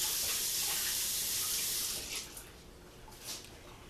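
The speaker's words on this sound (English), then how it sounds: "So I'm going to rinse this." Water runs steadily from a tap for a rinse during cold process guava soap making, loud and continuous at first, then easing and thinning toward the end, with no talk.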